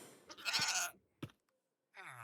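A goat in the Minecraft video game bleats in short, close bursts, a wavering cry followed by a clipped one after a brief gap, with a voice speaking alongside.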